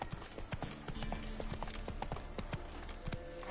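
Horse hooves clip-clop in a quick, even rhythm in The Witcher 3, sharp close strikes repeating over a dense game soundscape with no talking.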